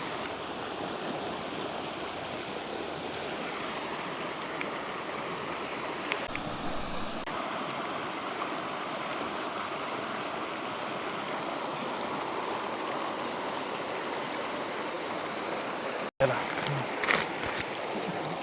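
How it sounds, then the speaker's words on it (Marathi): A flowing stream in a scenic outdoor picnic spot on the Dapoli to Mandangad route gives a continuous, even rushing of water, close and moderately loud, with a brief thump and splashy burst near the end. "पाणी"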